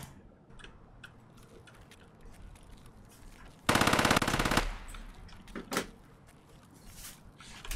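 Gunfire in Escape from Tarkov inside a factory area, heard as one loud sustained burst of rapid automatic fire, then a few scattered single shots and clanks against quiet background ambience.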